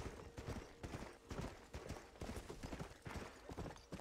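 Rhythmic hoofbeats from a horse in Red Dead Redemption pound out a quick, loud galloping pattern in groups of strikes, close up and continuous, with no voices.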